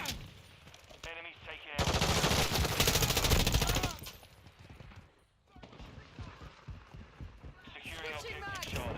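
Bursts of automatic gunfire and a magazine change in the Modern Warfare II beta, rapid rattling shots in dense stretches broken by brief mechanical reload clicks, with a player talking over the action.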